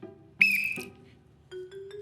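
A short shrill whistle blast, then a second brief higher whistle tone a moment later, close and clear against near silence.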